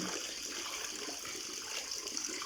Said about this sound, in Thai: ฟังเสียงน้ำไหลดีมากลย